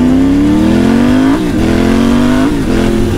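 A powerful new motorcycle revs loudly and close, its engine note climbing steadily in pitch, dipping briefly, then climbing again before another short dip, with no one speaking.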